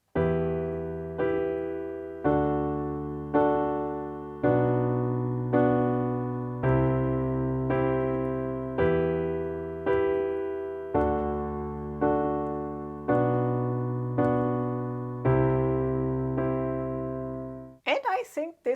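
Piano chords played in a steady repeated pattern, each chord struck twice, with left-hand root notes doubled in octaves, sustaining and decaying between strikes; a short noisy burst sounds at the very end.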